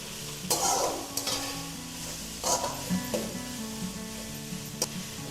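Onions and tomatoes with curry leaves fry in a pan for a mutton chops dish, giving off a steady close sizzle broken by several scraping stirs of a spoon against the pan.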